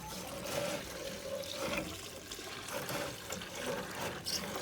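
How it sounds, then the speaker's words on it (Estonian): Water from an aquarium runs through a siphon hose into a bucket, a continuous gurgling, splashing trickle at moderate loudness with slight surges, close and without talk. "Ja asu põhja sifoonima."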